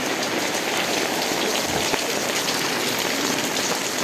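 Steady rain falls on a monsoon day, a dense, even hiss of drops pattering on surfaces that fills the whole stretch at a constant level with no voices.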